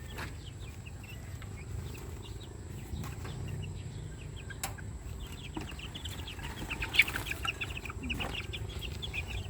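Chickens and young chicks from a first batch raised in a backyard coop cluck and cheep softly and continuously, with a steady low rumble underneath and a few sharper chirps.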